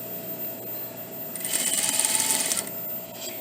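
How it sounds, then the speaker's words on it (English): Sewing machine stitching a quarter-inch seam while attaching a collar to a bodice, a short steady whirring run of about a second over a quiet room hum. "I'm going to sew a quarter seam"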